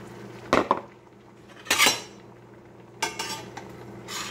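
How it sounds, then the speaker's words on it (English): A spatula scrapes and clinks against a pan while stirring food, in three short bursts of metallic scraping spaced across a few seconds with quiet pauses between, no talking. "I like to move the spatula around in a circular motion."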